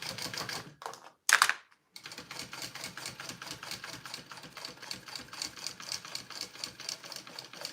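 A sewing machine runs a seam along a trim line in rapid, steady mechanical chatter, briefly stopping and restarting before stitching continuously, fairly quiet and near.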